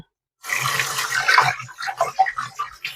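Tap water runs and splashes steadily into a sink while tilapia fish is washed. A short silence comes first, then a sudden onset of close, hissing flow with uneven splashes, and no talking.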